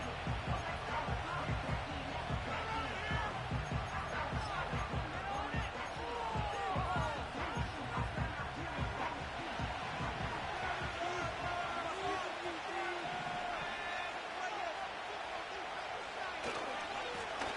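Large crowd at a Wembley American football game in England, a steady roar of stadium murmur with scattered claps, shouts and thumps throughout, broadcast commentary voices talking over it.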